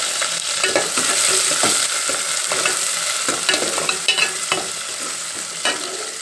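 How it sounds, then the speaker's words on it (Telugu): Onions and green chillies frying and being stirred in a pan for mutton curry, a steady close sizzle broken by repeated scraping stirs, with no talking. "ఇప్పుడు మనం ఉల్లిపాయలు వేసుకోవచ్చు, పచ్చిమిరపకాయలు"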